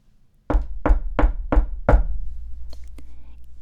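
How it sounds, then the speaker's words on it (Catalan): Five firm, evenly spaced knocks on a door, close and loud, followed by faint rustling in a quiet room. "el llop va arribar tranquil·lament a casa l'àvia i va trucar a la porta"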